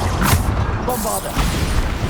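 A Bombarda blasting spell detonates in the video game Hogwarts Legacy, a loud, dense burst of rumbling explosion noise with a crashing tail filling the whole moment.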